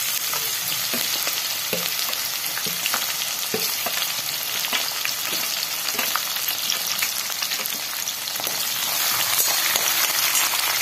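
Green chillies sizzle in hot oil with peanuts in a pan for kanda poha, a steady loud crackling fry with scattered pops and occasional stirring scrapes throughout.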